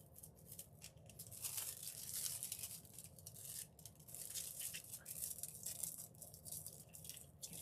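Gold leaf transfer foil peeled slowly away from a surface, giving a soft, continuous crackling rustle with small crinkly bursts, close and steady throughout, with no voices.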